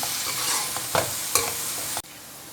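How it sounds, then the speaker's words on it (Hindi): Crushed garlic and coriander frying in a pan, a bright steady sizzle with a few sharp scraping stirs, close, cutting off abruptly into quieter background near the end. "मिक्स करके इसका कच्चापन दूर करते हैं"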